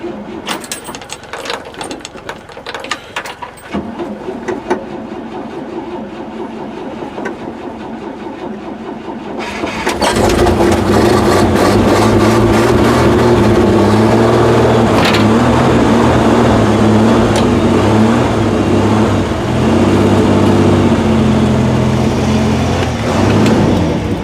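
A 1956 Lincoln Y-block V8 cranks and clatters for several seconds, then fires and settles into a loud, steady, rumbling run, close by with no talking.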